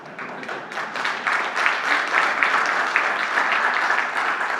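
Audience at a Hindi poetry or talk event breaks into applause, many hands clapping in a rising, fairly close round that stays strong and textured with individual claps audible throughout.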